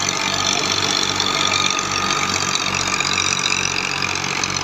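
New Seth Muhammad Tufail 2023-model thresher powered by a tractor runs steadily close by, a loud continuous mechanical drone with a rhythmic low thumping pulse and dense whirring, no pauses or voices.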